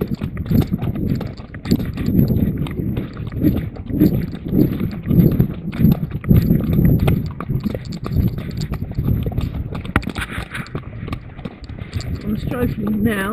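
A horse canters with a rhythmic, fairly close clip-clop of hooves on ground, steady beats running throughout while a person talks over it.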